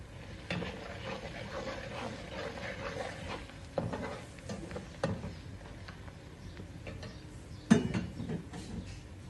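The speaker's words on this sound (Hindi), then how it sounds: "इन सब मसालों को अच्छी तरह मैं भून लूँगा।" Salt, garam masala, chili and coriander powder roasting in a pan, stirred with a utensil that gives scattered metallic clinks and scrapes, with one sharper knock near the end over a low, quiet background.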